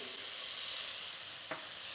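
Meat frying in a pot with a soft, steady sizzle that stays quiet and even throughout, with one brief clink partway through.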